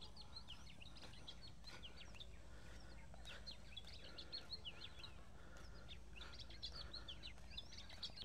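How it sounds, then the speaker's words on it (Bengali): Many small birds chirp and tweet in overlapping bursts throughout on a riverbank in spring, fairly faint and distant over a steady low background hum. "অনেক পাখি ডাকছে"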